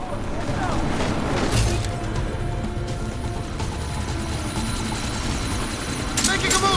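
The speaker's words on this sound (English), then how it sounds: "That chopper's about to take off!" A helicopter in the video game Deus Ex: Mankind Divided spins up for takeoff, a loud rotor and engine roar with crashing impacts mixed in, as game characters shout over it.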